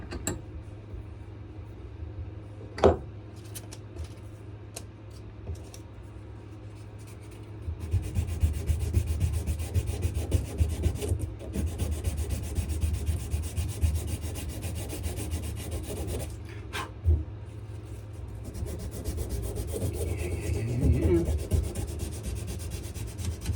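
A wooden knife handle is sanded by hand, steady rasping strokes that grow louder and denser after a quieter start, with a few sharp knocks as the piece is shifted.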